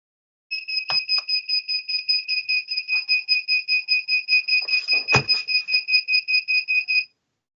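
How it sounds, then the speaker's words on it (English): An alarm beeps in a rapid, regular train of pulsed two-tone electronic chirps lasting about six seconds, loud and clear, with a few faint clicks and a thump underneath and no talking. "The alarm's going off."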